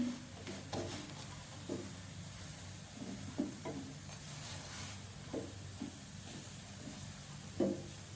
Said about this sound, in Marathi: पराठा एकदम छान भाजण्यासाठी आपण साईडने थोडं थोडं ह्याच्यामध्ये असं तेल सोडून घेऊया